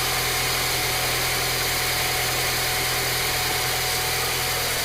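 A Honda Accord engine idles steadily after a distributor oil seal repair, with a continuous, even running hum and broadband mechanical noise, close and alone, with no voices.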